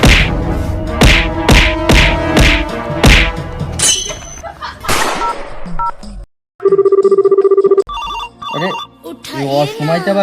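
A mobile phone ringtone plays loudly as a repeating electronic ring in a comedy skit, mixed with thumps and background sounds. Speech and music-like tones follow after the ringing.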